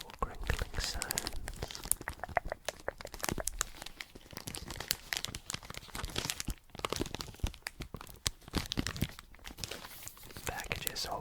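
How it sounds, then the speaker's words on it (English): A DNA test kit package is handled and opened up close, with continuous crinkling, crunching and tearing of packaging and sharp bursts of crackle throughout. "Make some little crinkling sounds"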